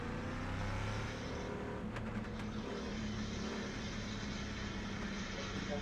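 Race cars in a sim racing game at Interlagos, GT1 Corvette and Aston Martin machines, a steady low engine drone from cars driving nearby, continuous and fairly faint.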